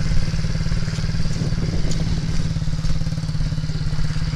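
An MRF pit bike engine runs close by in a loud, steady, throbbing drone with a rapid, even pulse and a few faint mechanical clatters.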